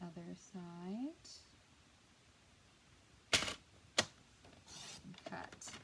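Paper trimmer or scissors cutting through cardstock for a folded snow card, two sharp snips close and clear, with a brief voice at the start and light handling noise after.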